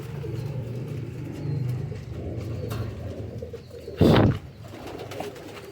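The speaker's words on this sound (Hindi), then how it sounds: "टैडी कबूतर है।" A Teddy pigeon coos softly, a low repeated murmur running through a loft, with a brief sharper burst of noise near the end.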